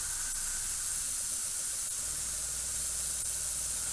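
An airbrush sprays paint while painting a Tamiya Panzerkampfwagen 38(t) Ausf. E/F scale model, a steady close hiss of air with no talking; an old air compressor hums faintly underneath.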